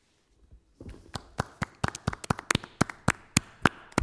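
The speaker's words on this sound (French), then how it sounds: "applaudissements chaleureux et nourris" An audience claps at an Oulipo literary reading. After a near-silent start, separate, crisp claps come at a fairly even pace and sound moderately close but sparse and quiet, with no voices.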